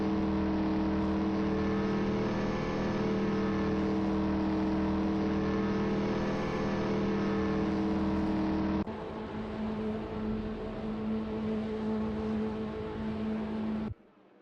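A Mercury Cougar XR7 IMSA and an Oldsmobile Cutlass race in a video game, giving a loud, droning engine roar with steady tones that shifts abruptly partway through and cuts off near the end, with no talking.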